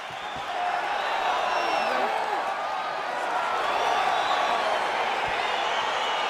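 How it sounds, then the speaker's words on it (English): An arena crowd in EA Sports UFC 4 roars in a steady, loud wash of cheering and whoops as a fight begins, sustained throughout without a break. "crowd getting excited as this fight gets underway"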